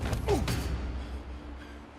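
A stuck door in Horizon Zero Dawn groans as it is forced open, a short loud creak with a sliding squeal and thud up front, then fading into a low mechanical rumble.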